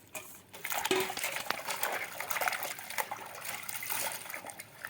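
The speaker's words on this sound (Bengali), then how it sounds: "এই জলেই একবার আমরা পুঁই শাকটা ধুয়ে নেবো" Malabar spinach leaves being rinsed in a bowl of water, with close splashing and sloshing plus a few light clinks of a metal vessel, moderately loud and steady with no talk.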